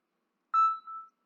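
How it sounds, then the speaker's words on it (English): A phone's text message notification plays as a single clean electronic chime with a short two-part tone, close and alone against silence. "So as you can hear, I just got a text message to my phone."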